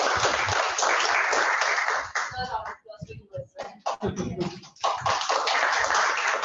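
Toastmasters club members in Pune give a round of applause at their meeting: dense clapping fades as a voice speaks briefly, then full applause swells again.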